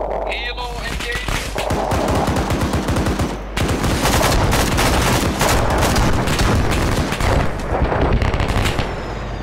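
Heavy, rapid helicopter gunfire in Arma 3 during a military simulation battle, dense rattling bursts of automatic shots over a constant low rotor drone, loud and sustained with brief pauses.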